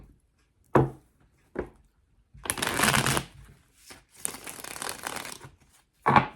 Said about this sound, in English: I want to do one more shuffle.